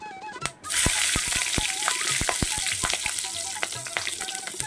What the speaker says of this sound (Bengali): ওই মাছ ভাজা তেলে আমি ফোড়নে দিয়ে দেব একটা তেজপাতা আর দুটো শুকনো লঙ্কা